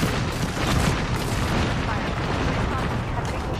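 Gunfire from the Apex Legends video game, playing as Octane, makes a dense, continuous rumble of shots and booms that runs steadily the whole time, with game noise mixed in and a voice faintly underneath.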